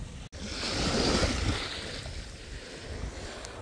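Sea waves wash onto a beach at Ao Yon, Phuket, on a slightly windy day, a steady close surf wash that swells and fades, with faint wind rumble beneath.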